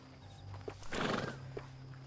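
Horse in Red Dead Redemption 2 whinnies once, a loud, close neigh mid-clip over a low steady game ambience, with a couple of soft hoof clops before and after.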